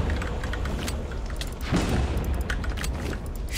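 A bazooka fires in the video game Minecraft, a loud, sustained booming blast that swells midway and rumbles on without a break.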